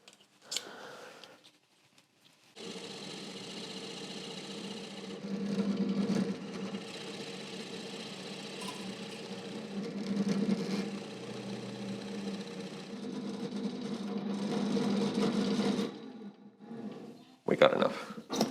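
Drill boring into wood with a Forstner bit, a steady grinding whir that runs for about fifteen seconds at moderate volume, swelling in spots, with brief quieter moments at the start and end.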